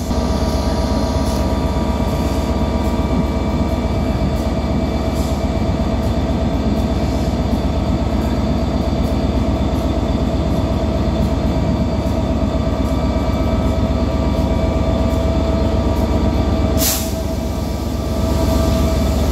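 Class 67 locomotive 67008 in Transport for Wales livery rolls into Stockport station with Mark IV coaches, a loud sustained diesel engine drone with rail rumble and steady wheel noise, plus a brief clank near the end.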